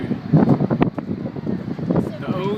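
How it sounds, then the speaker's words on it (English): Steady wind buffets the microphone on a foggy Ocean Beach shore during a bonfire night, a continuous low rumbling roar with gusts rising and falling throughout. "Not too cold, but windy."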